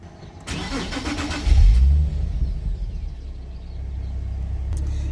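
A Nissan 370Z's engine cranks briefly then catches and starts, rising to a loud rev before settling into a steady rumbling idle, close by with no talk.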